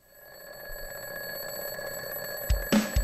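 An alarm clock rings steadily with a bright, continuous electronic tone, building slightly in loudness, with a few low thumps near the end and no talking.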